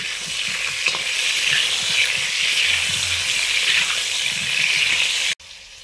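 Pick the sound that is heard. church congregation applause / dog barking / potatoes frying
potatoes frying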